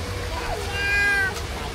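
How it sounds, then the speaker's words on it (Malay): A cat meows once at the Lost World of Tambun night park, a clear rising and falling cry over low background rumble, fairly close. "Mana miau pula?"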